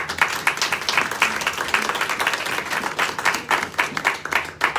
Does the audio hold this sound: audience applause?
yes